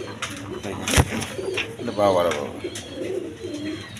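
Big-sized Rajgolla pigeons, a matched male and female pair, give low cooing calls close by while someone talks over them, with a sharp knock partway through.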